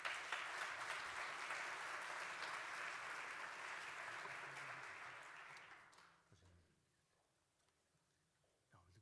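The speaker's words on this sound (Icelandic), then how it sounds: "Gefum hann gott klapp, Sigurður á Snævari" An audience at the opening of the Icelandic municipalities' national congress claps warmly for a panel moderator; the applause holds steady for about six seconds, then fades into a quiet room with a few small shuffles.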